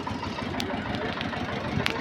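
A 2002-model tractor idles at a weekly tractor market, its steady mid-pitched engine rumble running continuously, with a few faint ticks and clatters on top.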